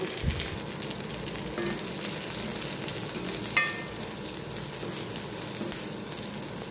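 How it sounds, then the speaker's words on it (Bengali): Chilies lightly frying in oil right after onions, a steady close sizzle with soft stirring scrapes and a small clink or two, no voices. "পেঁয়াজগুলো তেলে ভেজে নেওয়ার পর এরপর আমি মরিচগুলো একটু হালকা করে ভেজে নেব"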